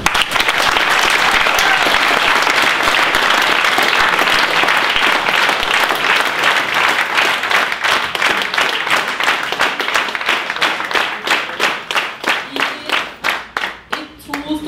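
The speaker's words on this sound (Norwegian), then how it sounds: "Jeg synes vi skal ta en ny felles applaus her for denne stedet" A crowd at a Venstre party nomination meeting in Akershus breaks into loud sustained applause that gradually turns into rhythmic, synchronized clapping, the claps growing sparser and more distinct toward the end.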